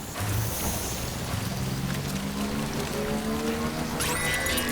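Timefall rain in Death Stranding, a steady dense patter of rain across the whole stretch, overlaid by low droning tones and a rising whine near the end.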